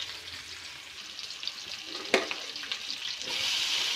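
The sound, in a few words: onions sautéing in a pan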